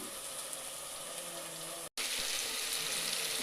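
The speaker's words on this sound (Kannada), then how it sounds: "ಅದಕ್ಕೆ ಒಂದು ಬೌಲ್ ಅಕ್ಕಿನ ತೊಗೊಂಡಿದ್ದೀನಿ ಇನ್ನೂ ತೊಳ್ಕೊಳ್ತಾ ಇದ್ದೀನಿ" Steady rushing of water while rice is washed in a bowl, continuous and close, with a brief cut to silence midway before the splashing resumes.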